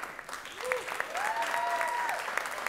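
Audience applause for a band at a Costa Rican televised music show: steady, fairly dense clapping with a faint tonal whistle or cheer sliding over it, no clear speech.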